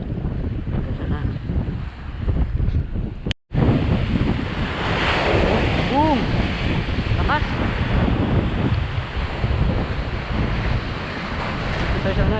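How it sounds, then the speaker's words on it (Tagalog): Big waves on a rough sea whipped by the northeast monsoon wind, heard from a small fishing boat: loud, continuous surf and crashing water with heavy wind buffeting the microphone, a brief dropout partway, and occasional faint voices underneath. "Laki ng alon eh."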